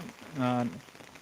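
Steady, soft rain of a normal downpour falls over a village, with wet roads nearby, a low continuous hiss; a brief voice sounds in the middle.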